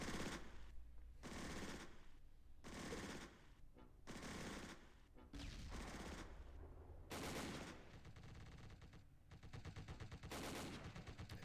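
Sustained machine gun and gunfire bursts from the World War II tactical game Close Combat on the Radzymin map, loud overlapping rattling volleys with brief gaps, dense and continuous through most of the stretch.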